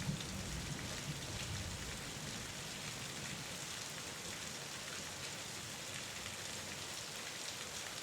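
Steady rain falls without a break, a dense, even hiss of drops on surfaces that stays constant from start to end, with no voices.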